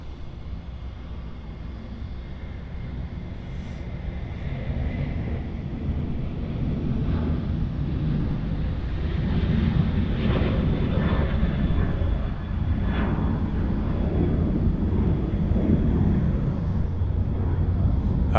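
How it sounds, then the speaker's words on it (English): Virgin Flight 931, a jet airliner departing Sydney Airport for Brisbane, roars with a steady broad engine rumble that swells gradually and holds loud over wind noise, with no talk. "one of those departures is heading off. This is going to be Virgin Flight 931 off to Brisbane."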